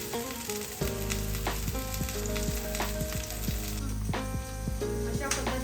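Pomfret fish frying in a pan over medium heat, a steady close sizzle and crackle with intermittent pops and spatters throughout, no talk.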